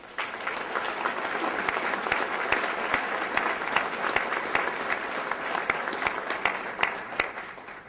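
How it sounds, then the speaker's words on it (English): An audience at an annual economic summit applauds the award winners, steady and sustained, with crisp individual claps rising above the crowd's clapping throughout. "Let's give all our winners a round of applause"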